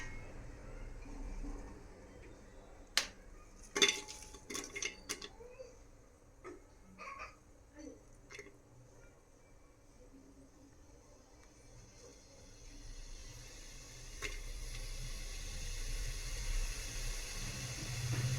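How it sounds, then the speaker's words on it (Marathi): Onion frying in a little oil in a pan, beginning with clinks and clatter and then building into a soft, steady sizzle and hiss that grows louder toward the end. "यामध्ये मी थोडं तेल घेणार आहे आणि कांदा छान असा भाजून घेणार आहे याच्यामध्ये"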